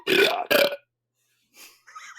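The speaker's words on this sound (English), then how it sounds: "I took all these burp sounds and I just kind of like layered them together" Layered burps built as an illusion-spell sound effect for a tabletop roleplaying game: two loud, close, guttural belches in quick succession, then a pause and a softer, thinner burp trailing off, with no voice.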